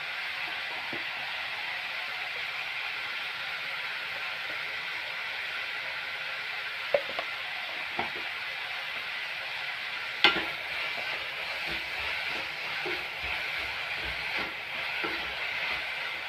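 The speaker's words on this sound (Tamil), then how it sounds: "இது கொஞ்சம் அப்படியே ஸ்லோ ஃப்ளேமில் வச்சு எண்ணெய் பிரிஞ்சு வரணும்" Tomatoes sauté with salt in oil over a slow flame for an egg sambar gravy, giving a steady soft sizzle throughout, broken by a few light stirring knocks and scrapes.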